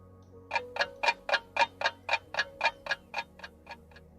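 A clock ticks about fourteen times at a steady, brisk pace, each tick crisp, close and distinct against a quiet low hum.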